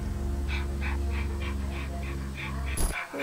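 A dog pants close by, giving a fast, steady run of rhythmic breaths over a constant low hum, and it ends with a short noisy burst.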